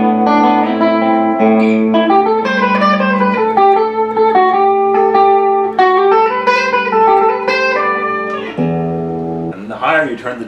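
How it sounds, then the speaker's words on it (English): A clean electric guitar melody through an EarthQuaker Sea Machine chorus pedal with the dimension turned up, giving a wide, shimmering chorus and a roomy, reverb-like wash trailing each note. "it adds more of a reverb-like ambience"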